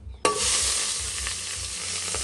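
Garlic and red onion drop into a hot pan for a Filipino humba base and burst into loud, steady sizzling as they fry, with light stirring noises and no talking.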